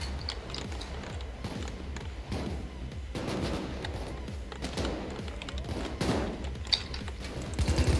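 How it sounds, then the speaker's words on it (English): Enemies in the game Payday 2 fire guns in a continuous run of rapid, overlapping shots and bursts. The gunfire is moderately loud and fills the whole stretch without a break. "They are actively shooting at me."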